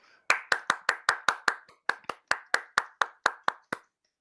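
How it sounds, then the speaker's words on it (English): About fifteen sharp, evenly spaced hand claps sound close and clear with a brief pause midway, as a small audience at a Refugee Week writing showcase welcomes a speaker named Ben. "A round of applause for Ben, please."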